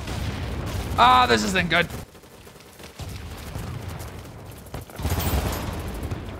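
Gunfire in the shooter game BattleBit Remastered: heavy, sustained bursts of shots and rapid fire crackle on all sides, while a player talks over them.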